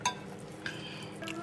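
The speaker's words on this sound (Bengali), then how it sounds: "পাপা একটু ভাজছি" Food fries quietly in a pan as a spoon stirs it, with a few faint scraping clicks over a low, steady sizzle.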